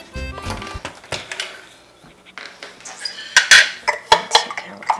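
A blade lifted out of a food processor after grating vegan cheese, heard as scattered sharp plastic-and-metal clinks and knocks, louder toward the end, with no talk.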